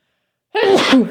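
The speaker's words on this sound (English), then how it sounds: "I have to sneeze." A single sharp human sneeze, loud and close, bursting out of silence and lasting under a second with no other sound around it.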